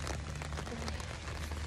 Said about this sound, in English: it's like getting harder rain